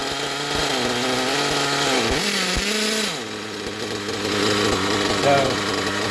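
An Ofna Hyper 7 nitro buggy's Hyper 3 port turbo engine, running Traxxas Top Fuel 33% nitro, idles loudly and raspily, its buzzing pitch wavering and dipping as the throttle is adjusted.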